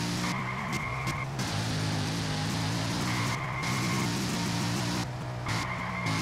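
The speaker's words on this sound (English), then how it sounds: "Car seems to be driving." A car drives in a Unity racing video game, its engine a steady low hum with repeated skidding tire squeals cutting in near the start, middle and end.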